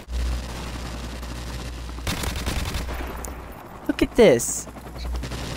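Rapid bursts of gunfire from a new weapon in the shooter game MWR, loud and close, with someone talking over the shots.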